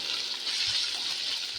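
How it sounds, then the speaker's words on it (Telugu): Water pouring into a pot of rice mixed with mint, ginger and garlic, cooked outdoors near a farm field; a steady, close hiss of running liquid throughout, with no talking. "ఒక చెంబు బియ్యానికి 2 చెంబులు నీళ్ళు పోసుకోవాలి"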